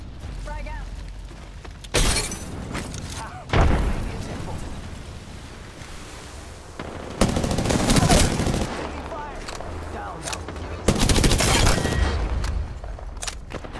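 Bursts of automatic gunfire in the video game Apex Legends, with heavy volleys near 2 and 3.5 seconds and longer sustained firing around 7–9 and 11–12 seconds, loud and close over a constant game background.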